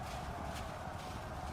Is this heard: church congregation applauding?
no